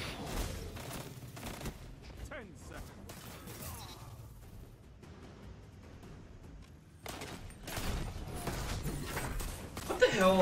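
Blade Barrage super ability attacks in Destiny, several rapid explosive projectile impacts and crashes in a chaotic firefight, moderately loud with players talking over them.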